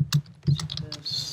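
Typing on a computer keyboard: a short, uneven run of close key clicks and taps, loud and alone with no talking.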